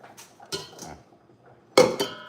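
A knife chops bison meat on a board in a kitchen, a few sharp close knocks with a gap, then two louder clunky strikes near the end.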